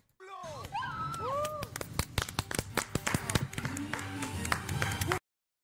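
Reality show housemates clap for a returning contestant, sharp uneven claps and slaps scattered through lively indoor chatter and shouting, close and fairly loud.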